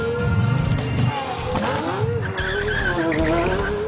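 A Bugatti Veyron and a Pagani Zonda F launch side by side in a drag race, tires squealing and engines revving hard with rising, sweeping pitch, loud and close throughout.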